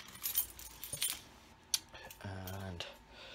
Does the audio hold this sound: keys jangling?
yes